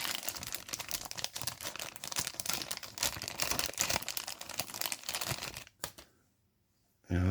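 Teflon tape being handled for a Rocking Whale RW-BL1K steam engine fitting, a dense close-up crinkling and rustling that runs for several seconds before stopping abruptly.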